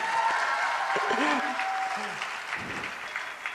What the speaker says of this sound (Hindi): तालियों में कमी ना करे।